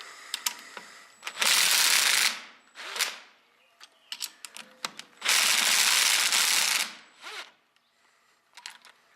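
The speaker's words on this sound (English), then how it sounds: "it also helps if you go around and loosen up the other ones a little bit, other bolts" Bolts are loosened on an Allis Chalmers D Series tractor's power director, heard as two long, loud, rasping ratchet-like bursts separated by scattered metallic clicks and taps, with no talking.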